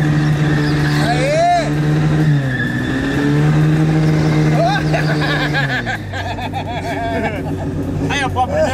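A Chevrolet Chevette being driven in a drift: the engine revs loud and close throughout, with pitch dipping and rising through the slide and tire noise mixed in, while people talk excitedly over it.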